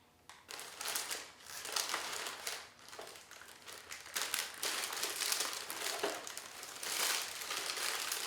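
A stack of deco mesh rustles and crinkles inside a plastic bag as it is handled up close, in bursts of crackling plastic that rise and ease without pause.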